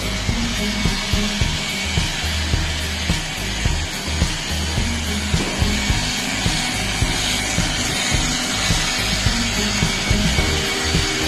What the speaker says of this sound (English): So this is where the buffing part comes in.